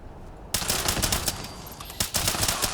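Rapid bursts of turret gunfire in Fallout 76's The Pitt, starting abruptly and continuing as dense, loud automatic fire with sharp repeated cracks throughout.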